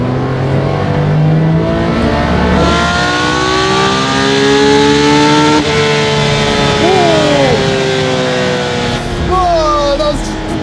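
A Porsche 911 reimagined by Singer (DLS) revs hard and loud to 9,200 RPM, its pitch climbing steadily through the gears, with brief drops and quick rises near the end as it downshifts.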